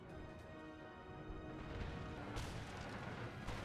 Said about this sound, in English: all this time I had my artillery bombarding his unit